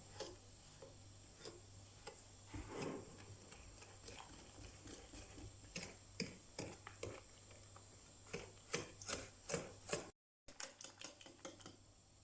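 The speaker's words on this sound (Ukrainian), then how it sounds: "збиваємо вінчиком до однорідності." A wire whisk beats potato starch and eggs in a bowl, making quick, light, rhythmic clicks and taps against the sides that keep a steady pace throughout, fairly quiet and close.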